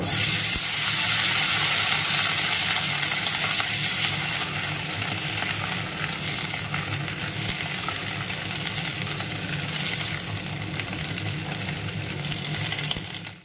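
Onion stalks are added to hot oil in a pan for a katla fish chachchari, producing a loud, continuous crackling sizzle up close that eases slightly after a few seconds and stays steady throughout.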